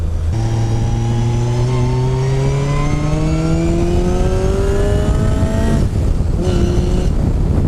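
A high-revving Striker 240S sports car engine with a straight-cut gearbox climbs steadily in pitch, loud and close, then briefly drops and revs again near the end, with no talking.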